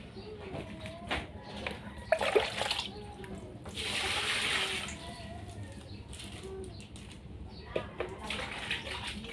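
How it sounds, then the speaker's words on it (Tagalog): Water splashes and swishes as a container is rinsed and washed in a kitchen, a gentle running wash with soft knocks, while people talk nearby and birds coo in the background. "hugasan natin itong sudlanan"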